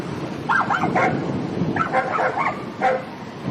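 Dogs bark and yip on a deserted forest road at night, several short bursts in quick succession, moderately close, with no talking over them.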